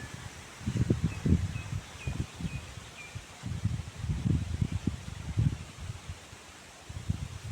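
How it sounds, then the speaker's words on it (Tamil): Gusts of wind rustling through leaves across a farm field in soft, uneven bursts, with faint bird chirps in the background. "அப்படி அடிக்குது ஃப்ரெண்ட்ஸ் காற்று"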